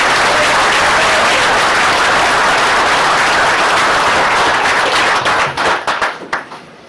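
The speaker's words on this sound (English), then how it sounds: "Give him a big round of applause." Loud applause from a union celebration audience greeting a speaker, a dense roar of clapping that breaks into scattered individual claps and dies away in the last seconds.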